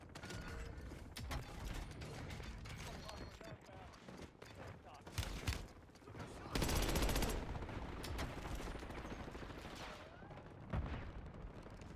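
A magazine reload in the video game Warzone comes through as quick mechanical clicks and ratcheting amid rapid gunfire bursts, with a louder burst of fire midway, all fairly close and busy under a player's voice.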